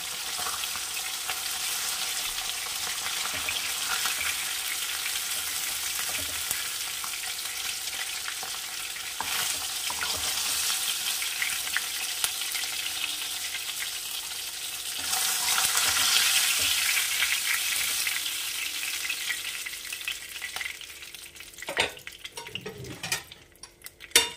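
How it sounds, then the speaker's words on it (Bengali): Steady, hissing sizzle of pabda fish frying in hot oil, continuous throughout, with a few clinks of a utensil near the end. "এখানে মাছ ভাজা হয়ে গেছে"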